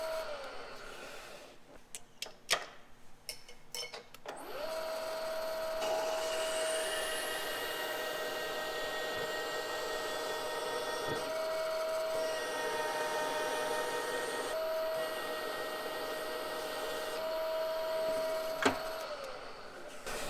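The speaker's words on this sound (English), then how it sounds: "all 4 guides are drilled and reamed on that head" Drilling and reaming the valve guides in a Minneapolis-Moline G1000 cylinder head on a machine, a steady whirring machining drone with a tonal whine that repeatedly rises and drops over about twenty seconds, with short clanks at the start.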